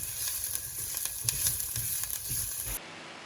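Onions with chili powder and coriander seed powder sizzle loudly in a hot pan while being stirred for aubergine rice, with steady frying crackle and soft scraping strokes, ending abruptly.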